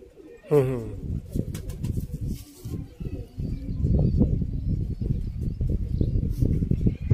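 Pigeons cooing near a breeder's loft in Sialkot, a burst of low throaty coos early on, then a steady, dense murmur of birds and rustling that continues throughout, with some faint human voices mixed in.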